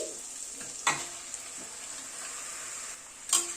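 Chicken fries in a spiced masala in a pan with a continuous bright sizzle, punctuated by a few sharp clinks of a spoon stirring against the metal.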